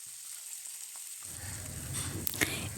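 Chopped onions hit hot oil in a pan for a Bengali rui fish curry. After about a second of near silence, a steady, close sizzle springs up and keeps hissing to the end.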